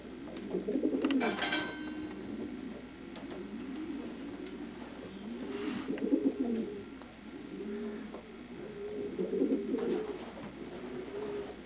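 Barred grizzle show racer pigeons coo in a loft, soft rolling coos repeating in several bursts close by, with a brief higher flutter or chirp near the start.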